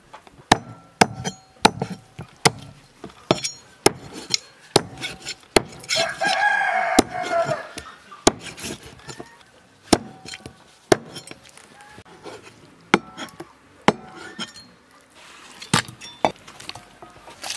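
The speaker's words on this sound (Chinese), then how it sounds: "把洗干净的鸡往碎剁一下" A cleaver chops washed chicken into pieces in a home kitchen. Sharp, close thwacks land steadily about once a second, with a brief busier stretch partway through.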